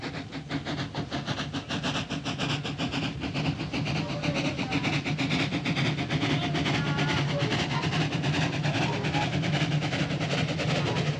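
Steam-era train arriving from Vienna in the old Austro-Hungarian monarchy, a loud continuous rumble with rapid rhythmic chuffing and clattering that grows slightly stronger as it draws in.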